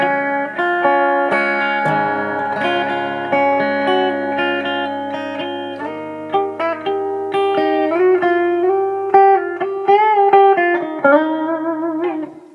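An electric guitar played through a Line 6 Spider IV amp on its clean red channel rings out in sustained chords and picked single notes, steady and full for about twelve seconds with no talking.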